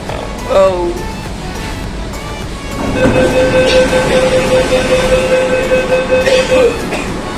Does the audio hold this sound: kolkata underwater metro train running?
yes